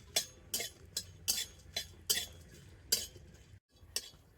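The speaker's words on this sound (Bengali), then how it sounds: "তো প্রথমে আমি লঙ্কা গোটা কড়াতে দিয়ে দিচ্ছি।" Whole dry red chillies roast in a dry kadai while a spatula stirs them, giving a series of about nine sharp metallic clinks and scrapes at a loose rhythm. The clinks are fairly faint over a quiet background.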